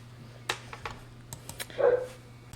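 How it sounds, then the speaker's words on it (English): Dogs barking somewhere nearby, a handful of sharp separate barks spread irregularly across the moment, then a drawn-out whining yelp, fairly faint over a steady low indoor hum. "Trying to deal with the dogs, but they just keep barking."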